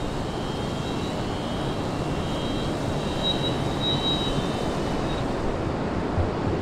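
A small Gannet drone on its first flight gives a steady, continuous motor whine with a faint high tone, heard close and unbroken over broad wind-like noise with no talking.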